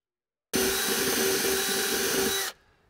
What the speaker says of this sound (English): Don't keep drilling, you'll go right through the ridge piece.